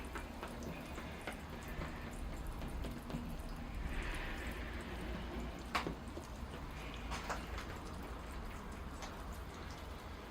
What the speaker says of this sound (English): So I'll water the tree first.